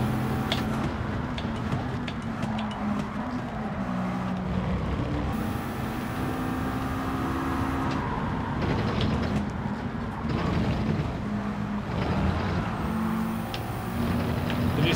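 Race car engines in Gran Turismo 7, a steady loud drone of engines revving and shifting through a race, dense and continuous with no talk over it.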